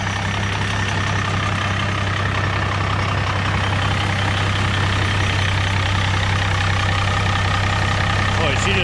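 A tractor engine idles steadily: a loud, constant, low diesel-like rumble and throb up close, with no change in pace across the whole stretch.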